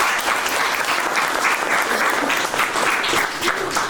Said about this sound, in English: I would just please like a round of applause for everybody.